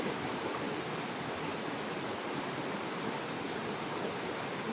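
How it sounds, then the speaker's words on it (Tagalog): Rushing river water near a waterfall, a loud continuous broadband roar with no pauses and no voices. "Baka biglang lumakas yung tubig"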